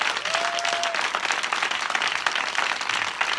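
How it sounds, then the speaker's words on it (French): A theatre crowd applauds at a live show, a dense, loud and steady wash of clapping throughout, with a brief whistle near the start. "Applaudissez"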